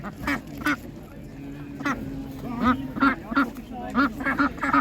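Domestic ducks at an outdoor animal market quack repeatedly nearby in a lively, irregular series of loud calls, with a low hum underneath.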